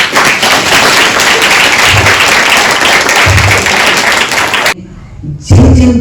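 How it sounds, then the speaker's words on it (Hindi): A crowd gathered at a Hindu spiritual event in Delhi claps loudly and continuously for several seconds before the applause cuts off abruptly, followed by a brief thump. "ताली बजाएंगे उन दीदी के लिए, उन प्रेरणा स्रोत के लिए"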